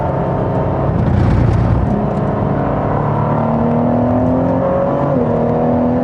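Ford GT engine accelerating hard on a race track, a loud close drone climbing steadily in pitch with a brief drop at a gear change near the end, heard without talking.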